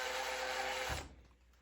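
A countersink bit deburring the vent hole drilled in a Harley M8 crankcase whirs steadily and close for about a second, then cuts off abruptly, leaving faint room tone.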